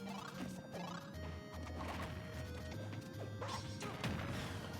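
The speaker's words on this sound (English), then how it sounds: "Forward smashing the ledge is just enough to kill Duck Hunt." Forward smash hits in Super Smash Bros, landing as a loud crash-like impact against the ledge amid continuous game music and effects, with several sharp whacks spread through the busy mix.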